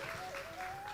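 Women in an audience clap, a faint, brief patter of applause heard at a distance.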